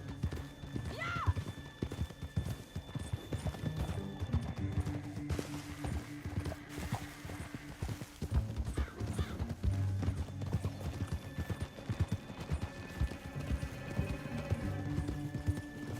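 Horses clip-clopping in the video game Red Dead Redemption 2, a steady run of hoofbeats with a brief whinny early on, set against low rumbling game ambience, moderately quiet.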